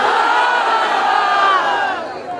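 A large crowd of married men at a Bangla waz gathering shouts the takbir in unison, a loud sustained roar of many voices that swells and then fades off.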